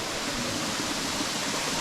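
Steady, dense rush of water falling from 108 temple water spouts in Upper Mustang, loud and close, with no break for the whole moment.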